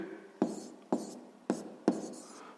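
A pen writing an answer on paper during a sixth-grade maths exercise gives four short scratchy strokes, spaced roughly half a second apart, close and quiet, with no talk over them.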